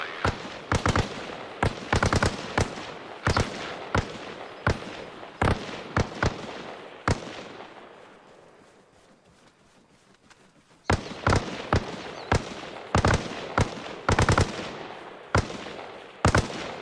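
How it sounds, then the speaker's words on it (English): In the video game Arma Reforger, gunfire aimed at a helicopter comes as loud sharp shots in rapid bursts, pauses for several seconds, then resumes in repeated volleys. "Is he shooting at my heli?"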